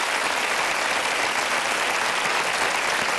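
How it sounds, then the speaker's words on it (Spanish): An audience gives Camila a round of applause, a steady, dense wash of clapping that holds at full strength throughout, close and loud. "damos un aplauso a Camila."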